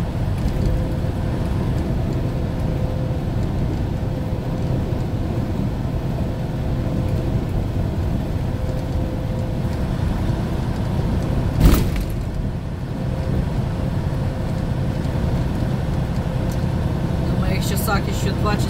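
Steady road noise from inside a moving car, a continuous low tire-and-engine drone throughout, with one brief sharp thump partway and a faint rattle near the end.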